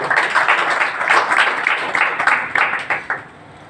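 A gathered audience at an organisation's meeting claps loudly in rhythmic bursts, close and steady for a few seconds before the applause drops off abruptly.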